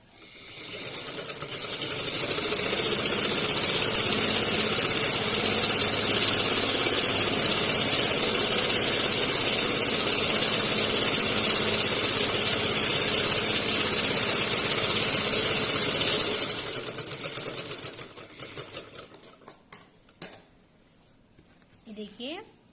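A sewing machine stitches a seam on a salwar in a steady, continuous run lasting most of the span, then stops and gives way to a few faint handling noises.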